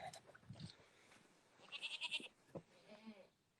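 Goats bleat in a farm pen, with a string of loud, wavering bleats in the middle followed by a shorter call, and quieter animal sounds around them.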